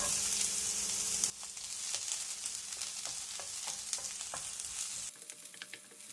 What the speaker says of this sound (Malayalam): നമ്മൾ സവാളയും ലോ ഫ്ലെയിമിൽ വെച്ചിട്ടാണ് വഴറ്റിയെടുക്കുന്നത്.